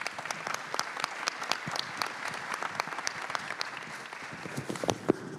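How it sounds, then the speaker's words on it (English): Applause from an audience at a regional tourism event, many hands clapping in a crisp, fairly even patter of distinct claps, moderately loud and sustained throughout without talk. "Let's give them a big round of applause."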